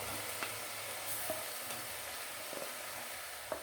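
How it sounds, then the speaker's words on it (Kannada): Mixed vegetables for bonda fry in oil, a steady soft sizzle and hiss with a few faint stirring clinks, close and alone. "ಕಲಿಸ್ಕೊಂಡು ಸ್ವಲ್ಪ ಎಣ್ಣೆಯಲ್ಲಿ ಫ್ರೈ ಆಗಲಿ."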